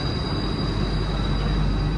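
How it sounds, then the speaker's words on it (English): Steady rumble and rolling hum of the Changi Airport SkyTrain in motion, heard from inside the car as a continuous, fairly loud drone with a faint high whine. "The SkyTrain is like a mini version of the subway."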